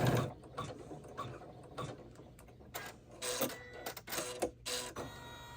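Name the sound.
sewing machine stitching a handbag charm bag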